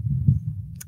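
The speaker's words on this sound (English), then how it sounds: "the first sound an embryo hears is its mother's heartbeat" Low, muffled heartbeat throbbing steadily for under a second, a deep close thump with a brief faint click near the end.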